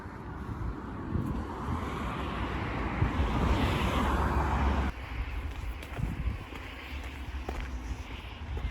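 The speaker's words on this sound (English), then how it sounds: "the traffic is quite overwhelming on that road" Steady road traffic rushes past on a busy road beside the Hayle Estuary in Cornwall, a broad close roar that is loudest in the first half, then drops to a lower, more distant hum partway through.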